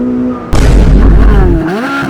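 A Chevrolet Corvette C8 Z06 on its stock exhaust suddenly roars into a loud, close rev, holds a rising and falling howl, then drops back toward idle.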